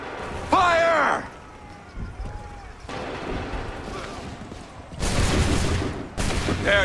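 In the Assassin's Creed III video game, a rank of soldiers fires a musket volley: loud, broad crackling bursts erupt near the end after a quieter stretch with a shouted call and game background noise.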